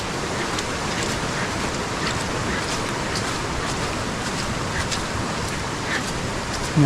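Swollen water surges after heavy monsoon rain in the Konkan countryside, a constant hissing roar that holds an even level throughout, with a brief louder bump right at the end.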